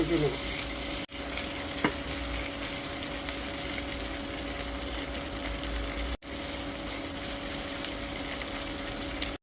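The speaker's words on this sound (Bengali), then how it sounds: "পেঁয়াজ কুচি খুব ভালো করে ভেজে নেব" Chopped onions frying in a home-kitchen pan, a steady loud sizzle and hiss that runs the whole time, broken by two brief near-silent cuts, with no talking over it.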